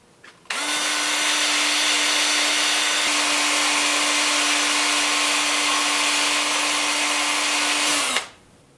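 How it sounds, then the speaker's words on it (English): A power sander whines at a steady pitch on a small area of a spalted maple bowl on a workbench, starting abruptly, running loud and close for about seven seconds, then cutting off. "So now I'll just sand up this little 2-inch area over here on the workbench."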